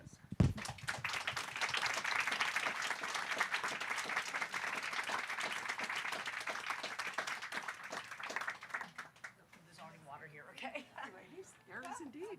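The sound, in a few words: audience applause for arriving authors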